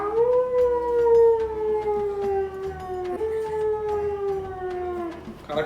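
A person imitates a fox howling, with two long wavering howls that slide slowly downward, the second following a brief break, voiced up close and fairly loud.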